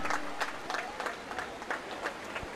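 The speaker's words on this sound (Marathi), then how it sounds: "जरा या दोन्ही टीमला प्रोत्साहन देण्यासाठी आपण सर्वजण एकदा जोरदार टाळ्या वाजवूया" Spectators clapping for both teams at a local cricket match between Kandari Kings Bandra and Mumbai Kings Kandivali, dense and fairly close rhythmic applause with sharp individual claps standing out.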